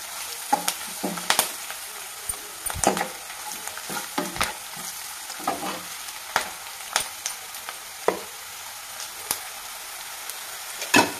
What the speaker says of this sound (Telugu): వెల్లుల్లి రెబ్బలు పచ్చివాసన వెళ్ళేంత వరకు వేయించుకోవాలి.